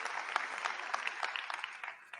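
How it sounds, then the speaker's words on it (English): An audience claps at a Dreamforce 2023 keynote, a brief, moderately distant patter of applause that fades out after about two seconds. "It's okay to clap."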